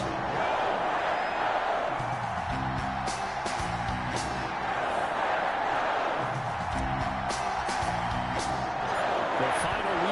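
Continuous roar of a stadium crowd in an EA Sports football video game for a Detroit Lions versus Green Bay Packers matchup, swelling with rhythmic chanting and whoops, while a commentator's voice talks over it.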